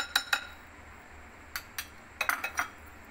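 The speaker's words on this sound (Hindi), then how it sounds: "हम इसको अच्छी तरह मिक्स कर लेंगे।" A spoon clinks against a bowl while coconut nan khatai biscuit dough with cardamom is mixed: a few quiet, scattered metallic taps in small clusters over a soft, steady background.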